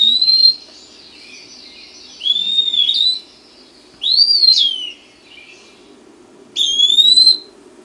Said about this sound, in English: That's the peewee.